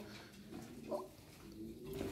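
Soft pigeon coos sound faintly a few times over a quiet background with some low rumble, somewhat distant.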